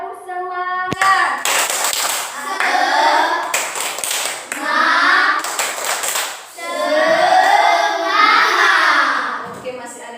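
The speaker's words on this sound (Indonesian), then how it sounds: "Ya, tepuk tangan semua dulu" Schoolchildren in an Indonesian classroom clap together in bursts, loud and close, with rhythmic pattern claps and children's voices chanting and talking between them.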